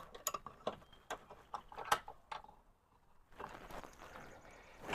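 Fittings on a resurfaced half barrel are tightened during assembly, giving close, irregular metallic ratcheting clicks and clunks in short bursts, then a pause and a softer rustling handling noise.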